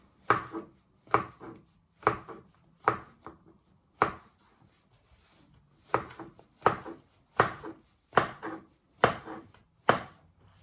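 Mushrooms being sliced with a knife on a cutting board for chicken noodle soup, about a dozen crisp, evenly spaced chops with a brief pause midway, close and fairly quiet.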